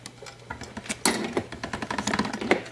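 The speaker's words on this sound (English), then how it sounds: "I'm going to run it through the pasta machine once here." Polymer clay is fed once through a pasta machine, giving a close series of dense clicking and crunching pulses with a rhythmic mechanical rattle that grows louder partway through.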